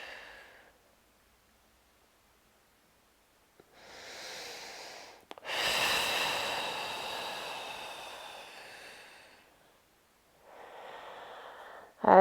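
Slow, close breaths during an upper-body fascial release exercise: a short exhale, a pause, a drawn-in breath, then a long airy exhale and another breath, with quiet gaps between them.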